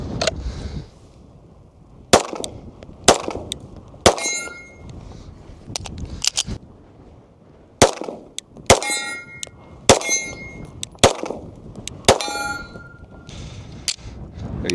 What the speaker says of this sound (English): I just dropped the slide and it barely even wanted to go into the battery